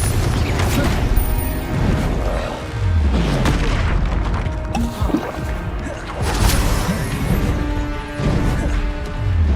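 Confringo blasting spells in Hogwarts Legacy burst as loud, repeated booming explosions and crashes amid chaotic combat noise, with several heavy impacts spread across a busy stretch of fighting.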